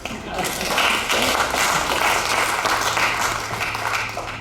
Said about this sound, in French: On l'applaudit même si c'est pas là.